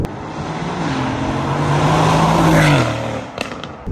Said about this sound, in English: you don't get the V8 noise that you get in a car like